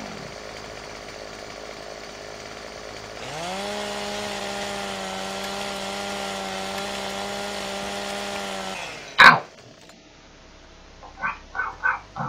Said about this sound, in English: Get ready for a loud chainsaw.